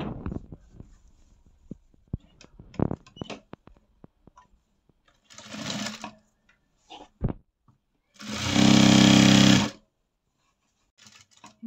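A sewing machine stitches a 36 inch churidar top in short bursts, with a brief run followed by a longer, louder steady whir, between scattered light clicks and handling noises nearby.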